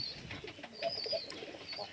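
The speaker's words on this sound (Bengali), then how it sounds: "এই যে এটা হচ্ছে আমার আরেকটা কবুতর" Pigeons coo softly nearby, low murmuring calls mixed with faint chirps and light background noise.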